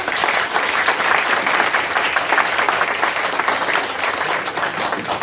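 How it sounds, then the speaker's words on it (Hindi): An audience at a waste management program at NIEPVD breaks into loud, sustained applause, a thick wash of many hands clapping together that stays strong from start to finish. "एक बार उनके लिए तालियां"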